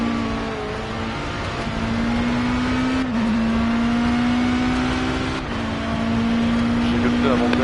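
Race car engine from the Project CARS video game holding a steady drone through a lap, with brief dips near three and five and a half seconds as the driver lifts and shifts, while someone talks over it.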